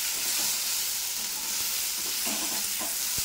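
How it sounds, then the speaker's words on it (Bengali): Chopped green chilli and tomato frying for dal in a pan, a dense continuous sizzle with a few soft stirring scrapes, close and steady, no one talking. "আমি লঙ্কা কুচি আর টমেটো কুচিটাও দিয়ে দিয়েছি"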